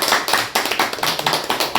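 Audience at an education forum with a university president gives a brisk round of clapping, close and steady with sharp hand claps throughout, no talk.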